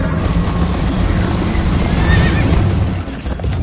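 A horse in a PS4 video game neighs loudly with clip-clopping hooves, set against a dense, continuous wash of game sound.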